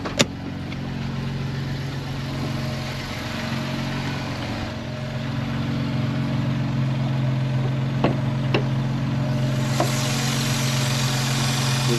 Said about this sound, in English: So right here's the idle of the car.